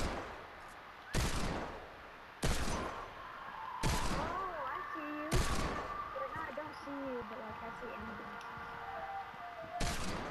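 Desert Eagle pistol fire in a first-person shooter game: five loud, sharp single shots spaced about a second or more apart, over a bed of game ambience and whistling effects, with people talking at times.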